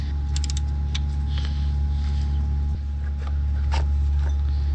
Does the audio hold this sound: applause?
no